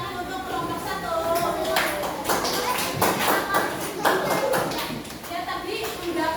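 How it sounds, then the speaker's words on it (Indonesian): A classroom group applauding a student group after their presentation, a dense patter of clapping hands filling the room with a voice talking over it. "Ya, tepuk tangan untuk kelompok 1."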